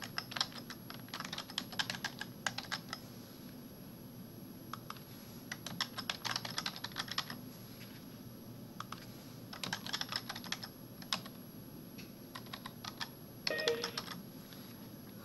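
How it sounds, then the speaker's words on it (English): Computer keyboard typing comes in close, crisp bursts of keystrokes separated by short pauses, with no talk over it. "I can copy and paste or type in my answers."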